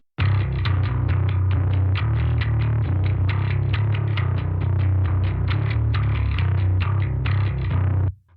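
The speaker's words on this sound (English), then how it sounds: "So together, the bass sounds like this." Heavily processed, distorted bass guitar playing a driving line of rapid repeated notes, loud and thick, continuous for several seconds before stopping.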